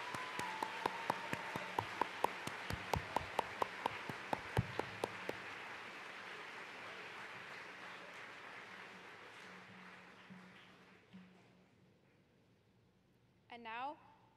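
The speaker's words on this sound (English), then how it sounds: "Let's get a huge round of applause for all these amazing people." A high school convocation audience applauds the students' parents, with a few sharp claps at first, then dense, sustained clapping that gradually fades away, followed by a brief voice at the very end.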